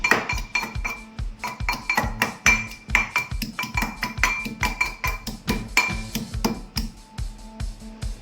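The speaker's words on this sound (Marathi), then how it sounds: "लसूण ठेचतोय मोन्या" Garlic cloves are crushed by hand, about twenty sharp, rhythmic pounding knocks in quick succession, close and clear with no talking.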